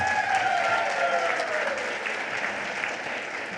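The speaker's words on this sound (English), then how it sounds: "can you guys give each other all a big round of applause?" Dense, sustained applause from an awards ceremony crowd, a thick wash of clapping that holds steady and eases slightly toward the end, with a few voices calling out over it.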